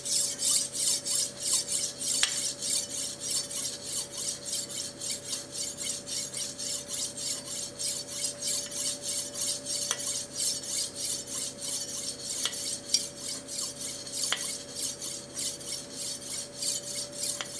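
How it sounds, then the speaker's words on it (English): A kitchen knife drawn across a handheld sharpening stone at about a 15-degree angle with light pressure, making a steady run of rhythmic rasping strokes. The strokes are close and even, with a few sharper scrapes among them. "Holding the stone in one hand and the knife in the other."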